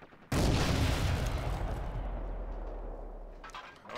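A single heavy gunshot in the World War II shooter Forgotten Hope 2 at Pegasus Bridge, a loud close report followed by a long rumbling decay.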